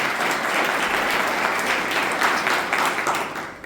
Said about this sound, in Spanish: toda esta congregación con un fuerte aplauso le da la bienvenida